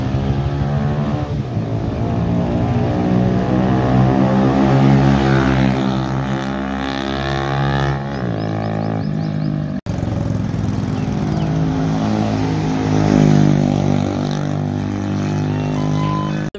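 A Honda Pridor motorcycle fitted with an Akrapovic exhaust passes by, its loud rasping engine note swelling and shifting pitch as it approaches and moves away, then building again after a short break, with no talk.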